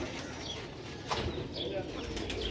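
Old Sialkoti pigeons cooing softly in a loft, low repeated coos mixed with faint chirps and a brief wing flutter, fairly quiet against background noise.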